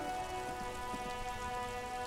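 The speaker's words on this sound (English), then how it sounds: "It's raining again." Rain falls steadily in the video game Disco Elysium, a soft, even patter with faint droplet hits over a constant tonal hum of background music.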